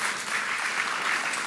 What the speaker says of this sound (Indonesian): Tepuk tangan sama Tuhan Yesus.